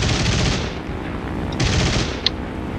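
Rapid machine-gun fire in War Thunder rattles loud and close in two sustained bursts, with a brief sharp crack near the end.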